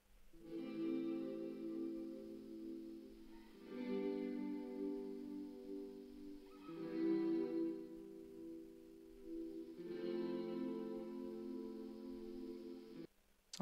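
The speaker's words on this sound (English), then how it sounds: "And lastly we have Crystal Garden, which is a shimmer reverb." Soft background guitar chords played through a Crystal Garden shimmer reverb pedal with the dry signal turned down, forming a smooth synth-pad-like wash; four long swelling chords, fairly quiet, with no talking.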